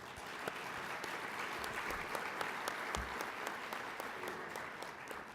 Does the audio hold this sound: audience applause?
yes